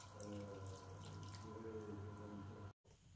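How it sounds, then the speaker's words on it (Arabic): Milk is poured steadily through a strainer into a bowl of flour and egg batter for a vanilla pear cream, giving a close, continuous trickling splash that stops abruptly near the end. "من بعد غنزيد له الحليب اللي غادي نصفي"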